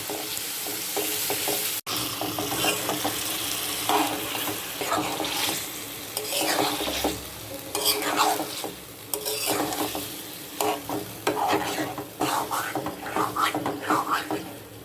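Leafy greens fry and get stirred in hot oil with garlic, onion, chopped green chilies and salt, giving a steady loud sizzle with repeated scraping stir strokes throughout.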